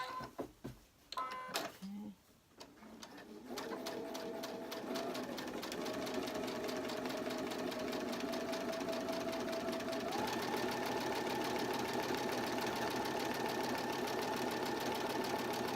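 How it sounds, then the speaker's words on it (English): A sewing machine runs in a long continuous stretch of rapid, even stitching while sewing appliqué fabric, close and steady, after a few short starts and clicks at the beginning. "And I'm just stitching right on the very edge of that fabric"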